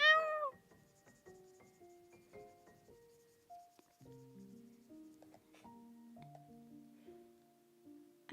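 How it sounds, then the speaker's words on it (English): A pet cat meows clearly and close at the start, then goes quiet while soft tonal background sounds continue faintly. "my cat will start meowing to be let him out of your room so that she can also get cheese"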